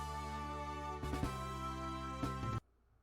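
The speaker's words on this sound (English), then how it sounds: "Airship makes this noise." A steady, droning airship engine hum from an RPG Maker VX Ace game rumbles continuously with layered tones, swelling briefly twice, then cuts off abruptly into near silence.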